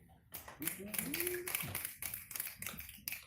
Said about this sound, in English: Snap your fingers for William.